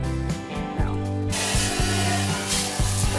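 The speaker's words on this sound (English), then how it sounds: "Spray it out." Water sprays out a container during farm chores, starting as a sudden broadband hiss after a quieter second and continuing steadily, with occasional low knocks and thumps underneath.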